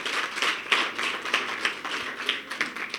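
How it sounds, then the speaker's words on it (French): An audience claps at the Prix Nouha Cissé literature prize ceremony during the Koom Koom 2022 festival in Ziguinchor; the applause is moderately dense and fairly quiet, with sharper individual claps standing out in an uneven rhythm. "que j'aimerais que vous applaudissiez très fort"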